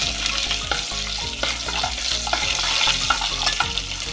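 Dried red chillies and tempering seeds stirred in hot oil for a pepper rasam: a loud, close sizzle and crackle with repeated scraping stir strokes throughout, and no talking.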